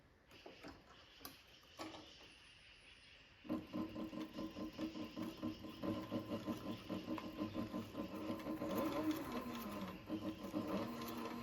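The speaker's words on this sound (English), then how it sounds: "Next, I'm going to sew this part along here in." A sewing machine stitching a tooled leather wallet, starting after a few quiet clicks and handling sounds and then running as a steady, rhythmic mechanical chatter for several seconds, fairly faint and close.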